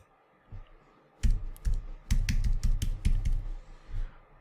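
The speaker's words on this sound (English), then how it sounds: "So let me go ahead and type that in. And the same password." Someone types a password on a computer keyboard, a short burst of crisp, close key clicks in an uneven rhythm following a quiet pause.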